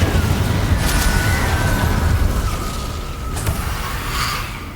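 An Incendio fire spell in Hogwarts Legacy bursts out as a loud, roaring blast that rumbles for a few seconds, then eases into a softer flare and whoosh.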